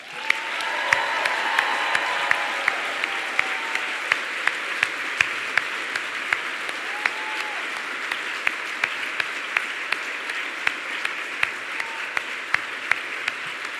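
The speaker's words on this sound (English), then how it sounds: "here's your one final chance to cheer for all the finalists" At a writers' awards gala, the audience gives long, continuous applause for the finalists, a steady wash of many hands clapping with occasional sharper individual claps standing out.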